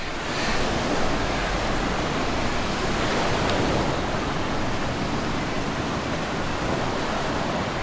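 Surf washes steadily into a small, quiet bay on the northeastern shore of Kauai, a continuous broad hiss and rumble heard close, with wind buffeting the microphone.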